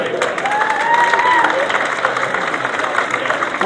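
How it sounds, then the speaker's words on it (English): Crowd cheering and applauding at the 2017 British Sidecar Speedway Championship final at Belle Vue, a steady, loud roar of claps and voices that fills the whole stretch without a break. "Give them a cheer, folks, for Tris Winterburn and Billy Winterburn."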